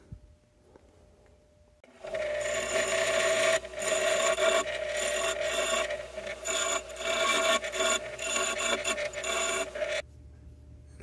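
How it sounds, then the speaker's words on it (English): A metal part for an NP205 transfer case twin-stick shifter modification being ground on a bench grinder: a loud, steady rasping grind starts abruptly after a quiet lead-in, holds with small fluctuations for about eight seconds, then stops. "So I'll take that over to the grinder and do that."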